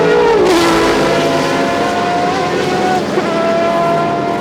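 Race car engines, three different ones, blast past at Mosport track during the 1999 IMSA Grand Prix, American Le Mans series. A loud, continuous roar with rising and falling pitch fills the whole stretch.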